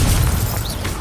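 A short, loud burst from a Confringo fire spell explosion in the Hogwarts Legacy video game, a single low booming blast with a crackling tail and no talking.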